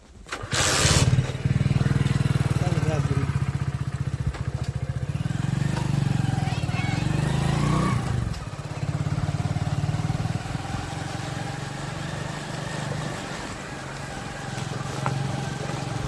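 A motorcycle engine idles and revs nearby with a steady low rumble, starting abruptly and running throughout, loudest early on and easing slightly toward the end.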